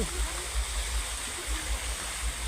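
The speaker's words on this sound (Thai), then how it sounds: "น้ำตกก็มี วันน้ำตกก็มี ไหลซะซะเลย" Water rushes steadily in a constant broadband roar, like a nearby waterfall or stream, with low rumbling pulses underneath.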